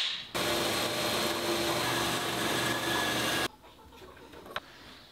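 A power tool cuts bog oak and another hardwood for egg cups, a loud steady whirring grind running for about three seconds before cutting off abruptly, leaving a quiet room with a single faint click.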